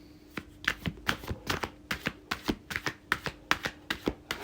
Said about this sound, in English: So I'm going to shuffle a few more cards.